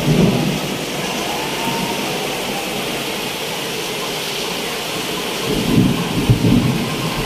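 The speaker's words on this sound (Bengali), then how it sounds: "খুব সাংঘাতিক একটা ঝড় হচ্ছে।" A severe thunderstorm with heavy rain roars steadily and loudly, a dense wash of downpour with low rumbles of thunder swelling near the end.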